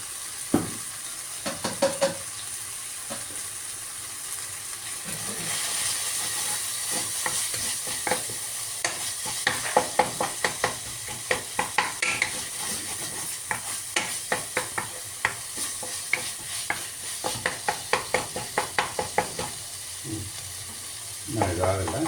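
Coriander, pepper, mustard seeds, fenugreek and cumin frying in a pan for a bitter gourd gravy: a steady close sizzle, broken by many rapid clinks and scrapes of a spoon stirring against the pan.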